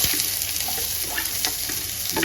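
Sliced onions sizzle and crackle in hot ghee in a pan for a yogurt chicken fry, a loud close frying hiss with scattered pops and stirring scrapes.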